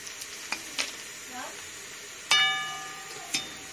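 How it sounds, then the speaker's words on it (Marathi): Puffed wheat-dough snacks fry in hot oil with a steady background sizzle, broken by sharp clinks of a utensil against the pan, one loud strike mid-clip followed by a ringing tone. "आता आपण सगळे तळून घेऊ"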